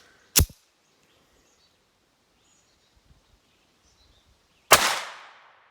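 Two sharp reports from a Ruger LCP II pistol firing CCI Stinger 32-grain .22 LR rounds during an outdoor chronograph test, spaced about four seconds apart. The second is louder with a trailing echo, and the gap between is near silent.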